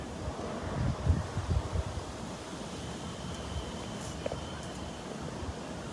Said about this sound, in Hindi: खूब तेज हवा चल रही है।